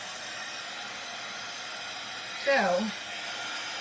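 A clothes dryer that may be failing, running indoors with a steady, even whirring hum throughout; a voice briefly speaks over it.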